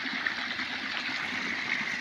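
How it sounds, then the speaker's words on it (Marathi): A small waterfall pours after heavy rain, a continuous close rushing of water, steady and fairly loud, with no voices over it. "हे पहा इथे एक धबधबा चालू आहे."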